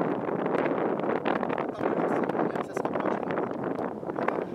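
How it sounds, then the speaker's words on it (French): Wind buffeting a microphone outdoors during a bike tour in the Cantal with a storm approaching, a steady broadband roar that stays loud and close throughout. "On sent qu'il y a un peu plus de vent"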